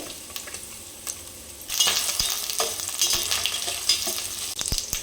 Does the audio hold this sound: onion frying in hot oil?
yes